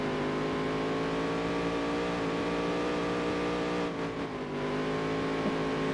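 A race car engine in NASCAR Dirt to Daytona, troubled by an engine fault, holds a loud, steady, close drone with a brief dip in pitch partway through and no voices.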